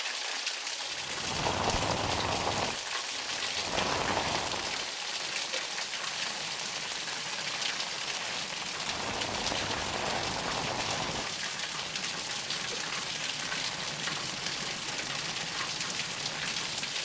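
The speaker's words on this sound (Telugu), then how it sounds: "ఉరుములు మెరుపులతో కూడిన భారీ వర్షం పడుతోంది" Heavy rain pouring steadily during a thunderstorm in Hyderabad, a dense continuous wash of drops on surfaces, loud and close, with no distinct thunder clap standing out and no talk.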